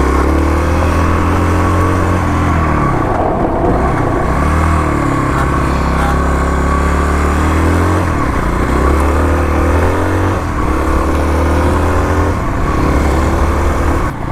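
A Kawasaki KLX351 dual-sport motorcycle runs laps, its engine droning loud and steady throughout, with rising and falling revs as it accelerates out of corners and eases off, no voices over it.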